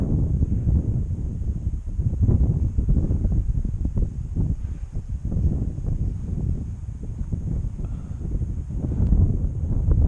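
Steady, loud wind buffeting the microphone outdoors while a KooTai KAI-84 RC model is flown, a continuous low rumble with gusty surges and no clear speech.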